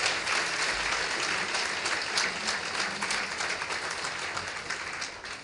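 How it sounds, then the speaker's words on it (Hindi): A seated crowd of Gayatri Parivar workers at a meeting in Lucknow claps to welcome a guest, dense sustained applause for several seconds that eases slightly toward the end. "हम लोग सभी गायत्री परिवार के कार्यकर्ता जो यहाँ बैठे हैं, ताली बजाकर स्वागत करेंगे बलराम यादव जी का।"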